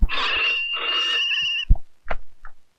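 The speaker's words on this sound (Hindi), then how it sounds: "फोन उठा लो" A telephone rings in two sustained bursts with a steady tonal trill, followed by short clicks and rustles as the handset is picked up.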